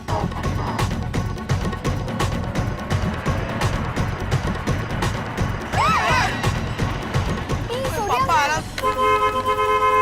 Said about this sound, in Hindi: अरे हॉर्न बंद करो, कौन है?